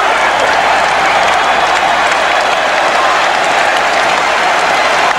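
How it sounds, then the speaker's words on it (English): A delirious basketball arena crowd cheers and applauds during a Celtics comeback against the Nets in the 2002 Eastern Conference Finals, a loud, dense, continuous roar with no break. "This crowd is absolutely delirious."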